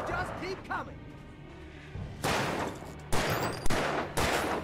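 Gunshots in the video game Alan Wake, a few loud separate blasts with echoing tails following a quieter stretch, and a voice speaking at times.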